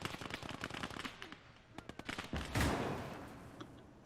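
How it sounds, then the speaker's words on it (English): Tank cannon fire and gunfire in the WWII video game Gates of Hell, armour-piercing shells on the Eastern Front: rapid clattering shots early, then a heavy booming blast near the end that rumbles away. "I'm firing armored ballistic, which means I'm out of the HE anti-tank shells"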